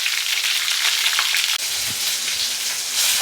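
Brinjal fries in hot oil, a close, steady sizzling hiss with a brief dip partway through, otherwise continuous and fairly loud.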